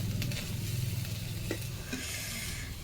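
Potatoes fry in a pan with a close, lively sizzle and crackle, punctuated by a few sharp stirring clicks, with no speech.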